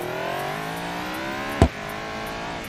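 A video game car with an aftermarket sound pack revs with a steady harmonic engine drone, rising gradually, broken by one sharp loud thump partway through before the engine carries on alone.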